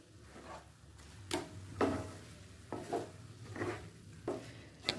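Carrot halwa with a pinch of saffron being stirred in a pan, a spoon scraping and knocking against the metal in several soft, irregular strokes over a low steady background hum.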